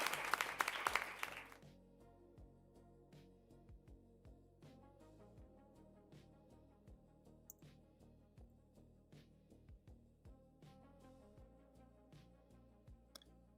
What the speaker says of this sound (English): Let me give you an applause, Devin.